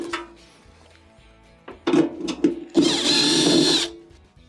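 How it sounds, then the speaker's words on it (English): Power drill backing Phillips screws out of a clothes dryer panel, with a couple of short bursts followed by a sustained, loud whirring run close up. "there are 2 Phillips screws that are on here that will need to be removed."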